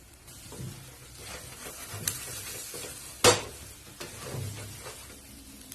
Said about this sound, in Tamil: அதுல இந்த முட்டையும் இதோட சேர்த்து நல்லா வதக்கி விடலாம்.